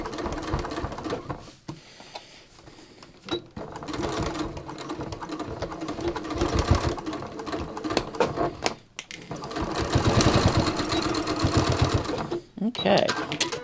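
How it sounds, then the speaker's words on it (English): Sewing machine stitching a knit strip onto jeans as a stretchy yoga-pants-style waistband, running in short whirring bursts separated by pauses, heard close up with a person talking throughout. "So I'm going to stitch it a little bit on the knit strip side here."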